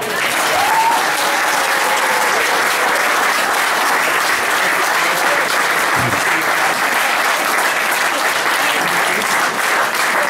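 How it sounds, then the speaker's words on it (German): A festival crowd at a carnival gathering applauds, a dense, loud and steady wave of clapping that fills the room without a break. "Ich glaube, das ist nochmal ein Applaus wert."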